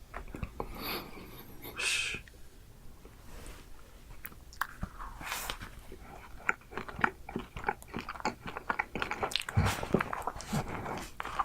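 Cotton candy being bitten and chewed up close, with repeated crisp, crunchy bites and wet chewing in an irregular rhythm that grows busier toward the end, no talking.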